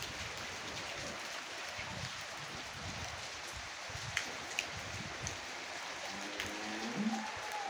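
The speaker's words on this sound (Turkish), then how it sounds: "bir yandan güneş açıyor, bir yandan yağan yağmura bakın arkadaşlar" Steady rain patters on surfaces nearby, a soft continuous hiss with occasional louder drops.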